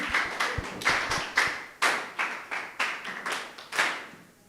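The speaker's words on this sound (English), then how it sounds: "Can we give them a very awesome hand clap?" Primary school students clap their hands in a classroom discussion, a run of sharp, fairly close claps in a steady, slightly uneven rhythm that fades at the end, with no talk over it.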